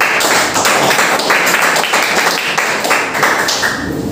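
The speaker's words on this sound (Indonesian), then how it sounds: "Beri tepuk tangannya Maria." A classroom audience claps for a student named Maria, a dense, steady patter of many hands filling the room without pause, close and fairly loud with no talk over it.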